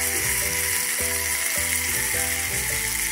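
King fish (vanjiram) slices fry in a pan of hot oil, giving a dense, steady sizzle with occasional crackles and faint scraping, close and constant without voices.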